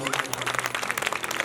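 An audience claps briefly for a pandit at a religious discourse in Govardhan. The scattered, fairly soft applause lasts about a second and a half.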